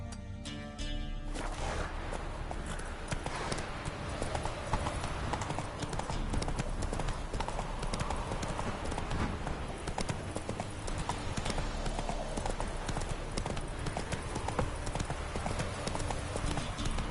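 Horse hooves gallop in a PS4 video game in a fast, continuous clip-clop rhythm that stays loud and steady throughout, with occasional game sounds layered over it.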